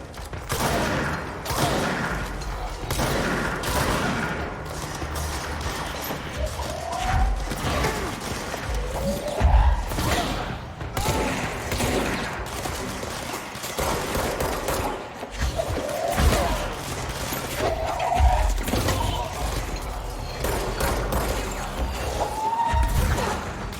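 Sniper fire in the video game Control, with repeated sharp shots and crashing impacts amid a continuous busy din of combat, mechanical clatter and game effects, with occasional voices.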